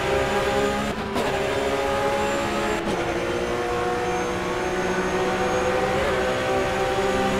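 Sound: Porsche Supercup race cars on the Nordschleife

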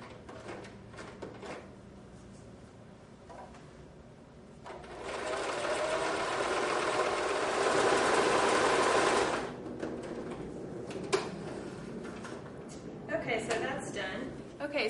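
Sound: sewing machine stitching the two ends of a skirt

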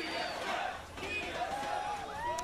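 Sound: esports crowd chanting TSM

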